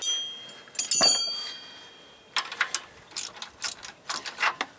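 A ratchet wrench skips and clicks while removing a power washer pump: a short rattling burst, a pause, then a run of quick, uneven ratcheting clicks at close range with no talking.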